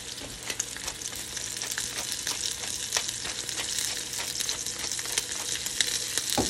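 A pork chop sears in a hot pan with a dense, steady sizzle, loud and close, broken now and then by sharper spits and crackles.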